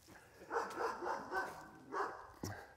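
A few quiet barks from a watchdog on a sawmill property, a short burst of four or five yaps followed by a pause and another bark, heard from some distance.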